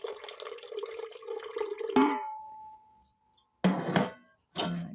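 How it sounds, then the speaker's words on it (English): Water is poured into a blender for an acai and chocolate protein shake, a steady close splashing stream that stops short, followed by a couple of brief knocks and clatters. "I'm going to start off with some water."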